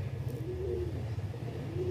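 A pet Sri Lanka pigeon cooing close by, soft repeated low rolling coos over a faint hum, brief and quiet.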